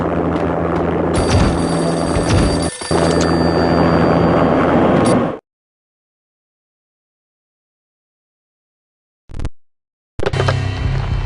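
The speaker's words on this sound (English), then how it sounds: "An armed helicopter just landed on the manor grounds." Armed helicopter landing in the Max Payne video game, a loud steady rotor drone that cuts off abruptly into silence and then briefly returns at the end.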